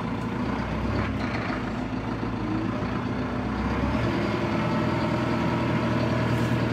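A 2018 Massey Ferguson 6713 tractor with a Sisu diesel engine idling, a steady low rumble with a constant mechanical drone, heard close and continuous without talk.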